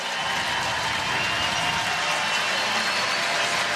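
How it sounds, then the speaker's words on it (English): Steady, dense applause from a hockey arena crowd at an NHL game between the Edmonton Oilers and San Jose Sharks, continuous and fairly loud throughout with no clear speech over it. "Crowd appreciative of the whole thing."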